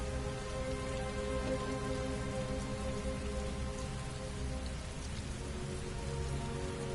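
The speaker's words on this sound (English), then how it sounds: "Heavy rain. It's been the same for weeks." Heavy rain pours steadily with no pause, a dense, even hiss of drops striking surfaces throughout, with no voices.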